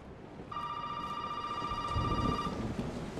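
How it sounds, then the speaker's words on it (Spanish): A telephone in the Resident Evil 7 video game rings with a steady electronic tone lasting about two seconds over a dim, rumbling game ambience, with no speech. "Vamos a contestar el teléfono"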